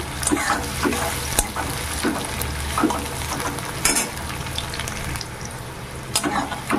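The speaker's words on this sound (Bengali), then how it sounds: "পেঁয়াজ আর মরিচের মধ্যে ভালো করে ভেজে নেব" Onions and chilies frying in a pan, a close, continuous sizzle with scattered crackles and occasional stirring knocks.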